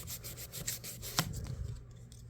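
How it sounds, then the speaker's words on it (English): A knife blade rubbed back and forth on 2000 grit sandpaper, giving soft, rhythmic rasping strokes that stand close and alone, with no one talking. "step up to a higher grit, like a 2000 grit or something like that, and go back and forth."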